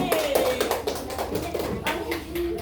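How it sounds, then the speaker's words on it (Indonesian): A group in a classroom claps hands in quick, uneven bursts, with children's voices and chatter mixed in throughout the short stretch. "Tepuk tangan dulu untuk kelompok kinestetik."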